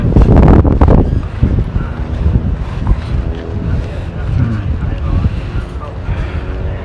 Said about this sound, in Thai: ลมแรงนะ